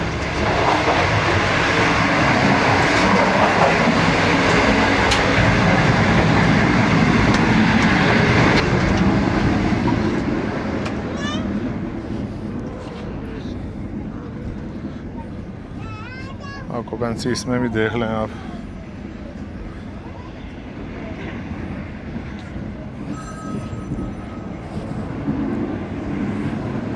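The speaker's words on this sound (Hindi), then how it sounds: "इस वक्त ट्रेन हमारी 115 किलोमीटर फी घंटा की रफ्तार से दौड़ रही है" Rumbling, steady rail noise rolls through a Pak Business Express AC Standard coach at about 115 km/h, loud at first, then easing, with a few clicking bursts mid-way and someone talking over it.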